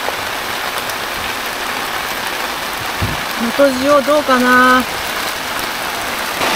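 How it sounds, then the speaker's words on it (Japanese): Heavy rain pours in a constant dense hiss during an outdoor fishing meetup on Noto Island, and a voice speaks briefly over the downpour. "すごい雨。"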